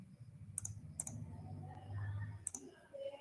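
Sharp clicks from a computer mouse and keyboard during CAD sketching, three distinct clicks spaced about half a second to a second apart over a low hum, with no talk.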